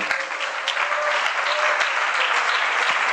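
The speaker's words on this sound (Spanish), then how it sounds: "Dale un aplauso al Señor" A church congregation claps steadily and enthusiastically, a dense, continuous patter of many hands filling the room.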